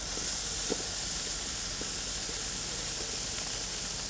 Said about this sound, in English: We're gonna drop some of our steak and peppers here in the middle.